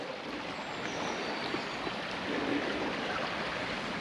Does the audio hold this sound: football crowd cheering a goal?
no